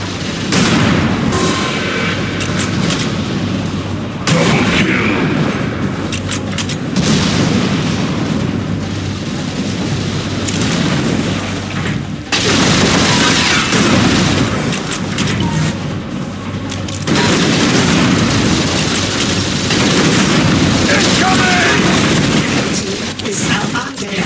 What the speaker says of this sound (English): I'm taking heavy fire!